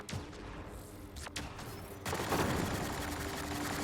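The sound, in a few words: gunfire in the video game Mass Effect: Andromeda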